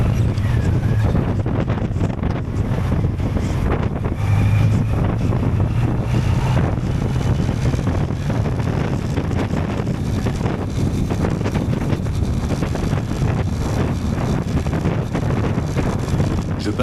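Strong wind at Calais buffets a moving motorcycle rider's microphone, producing a constant heavy rumbling roar with gusty surges throughout, a faint engine hum underneath.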